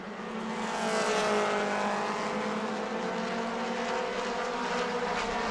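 Modified race cars roar around the New Smyrna oval in a Mod Mini 30 race, a steady, loud engine drone holding continuously without a break and no voices over it.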